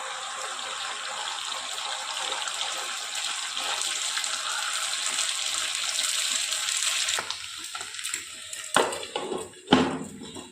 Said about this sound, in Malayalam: ഇനി നമുക്കിതിലേക്ക് നമ്മുടെ ബാറ്ററാണ് ഒഴിച്ചു കൊടുക്കുക